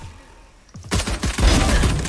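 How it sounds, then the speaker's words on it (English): Rapid bursts of gunfire from the video game Valorant crackle loudly and keep going, the shots overlapping into a dense fusillade. "Enemy fire."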